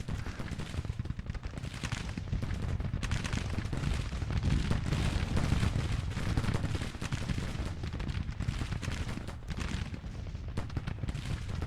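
Field guns in the Grand Tactician: The Civil War game, a continuous loud, dense rumble of cannon and musket fire rolling without pause like a distant battle.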